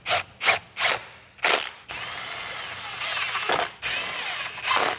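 Hand ratchet clicking rapidly in several short bursts while hose clamps are tightened on a car fuel line of a Mercedes CL65 AMG V12, close and fairly loud, with a brief pause and light mechanical handling between strokes.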